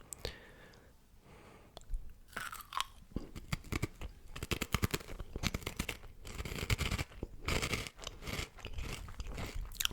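Close, intimate crunching and chewing of small fry-shaped Korean snacks, with crisp bites and repeated crackling chews in an irregular rhythm, quiet apart from the crunches.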